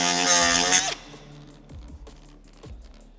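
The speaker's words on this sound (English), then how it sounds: "I grind up to the cut, and as it gets close, the bit between the cut and the grindable edge kind of shatters" A battery-powered angle grinder cuts steel with a bright, loud whine for about a second, then spins down and falls quiet, leaving a few faint knocks and handling sounds.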